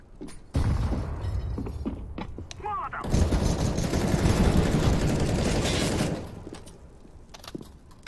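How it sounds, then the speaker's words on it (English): A grenade blast in the competitive shooter CS:GO, a loud burst of explosive noise with scattered debris lasting about three seconds amid ongoing game gunfire and effects. "I'm throwing a grenade."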